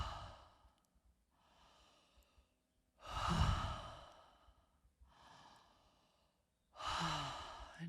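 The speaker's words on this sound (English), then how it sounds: "allowing the breath to continue a little bit more gently now, but staying with this connected circular breath." Connected circular breathing during a breathwork practice: slow, audible inhales and long sighing exhales in a steady cycle, with two louder, deeper breaths standing out, close and intimate, no talking.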